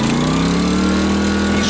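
A 1.0 kW GENERGY IBIZA inverter generator runs loud and close just after starting, its engine holding a steady droning hum with a slight rising pitch and no talking over it.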